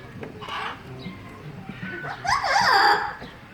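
A parrot gives a short run of squawky, warbling calls that rise into a louder, bright chirping burst near the end, with faint background noise, at a safari park.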